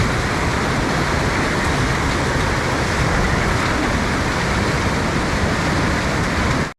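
In a Tibetan colony in Kullu, Himachal Pradesh, floodwater surges into a house with a dense, close, constant rushing roar, unchanging in level until it cuts off abruptly.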